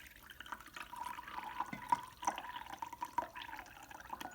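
Liquid is poured into a disposable diaper, producing close, faint trickling and dripping with small splashy plips scattered throughout, no voices.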